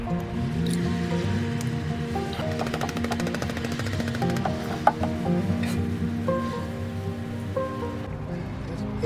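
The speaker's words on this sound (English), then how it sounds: "I'm gonna go ahead and pan this back" Hard rock ore paydirt from Wyoming being panned for gold in water, with continuous wet sloshing, swishing and dripping as the pan is worked, fairly close, with tonal background sounds throughout.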